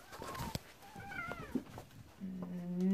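A house cat meows in a few short, rising calls, close and moderately loud, at one point near where art supplies are being knocked about, with a brief bump between calls.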